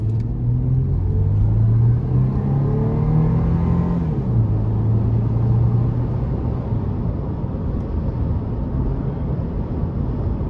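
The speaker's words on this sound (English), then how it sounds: "I'm gonna go ahead and put my foot to the floor. See how it accelerates." A 2004 Toyota 4Runner SR5 with about 250,000 miles accelerates at full throttle from inside the cabin, its engine droning loud and rising in pitch, dropping once at a smooth upshift, then climbing steadily again with road rumble.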